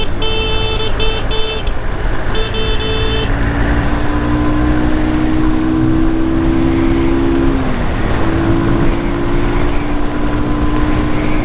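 A Haojue KA 135 motorcycle rides along an open road, its engine holding a steady loud drone with wind rush and a pitch shift as it changes speed, with brief electronic beeps early on.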